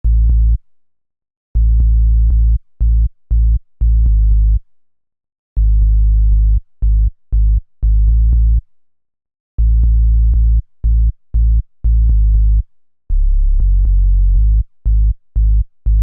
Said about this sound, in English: the bass, is using a classic sine wave, so I use the 3X oscillator from FL Studio to recreate it